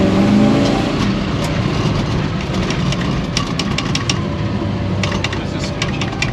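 A 1956 Chevrolet two-door conversion with twin turbos and Mickey Thompson tires drives and accelerates, its engine a loud, steady, close roar heard from inside the car.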